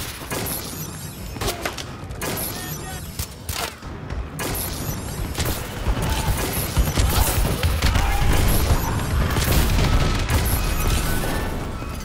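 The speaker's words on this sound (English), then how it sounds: "Friendly bombing run incoming." Friendly bombing run in Call of Duty: Advanced Warfare sets off a dense barrage of blasts and crashing impacts, loud and continuous, building heavier in the second half over a steady battle din.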